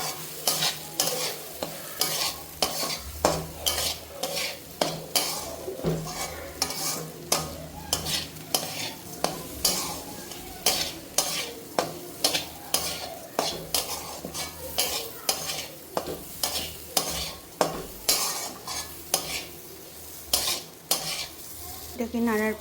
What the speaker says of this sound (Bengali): সামা চালটাকে অল্প নাড়ার পরে